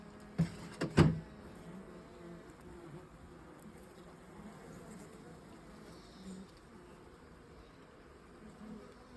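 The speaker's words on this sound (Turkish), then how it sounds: "Arıları açmak için güzel bir gün." Honeybees hum faintly and steadily around an opened beehive on a fine day, with a few soft knocks early on and no voices.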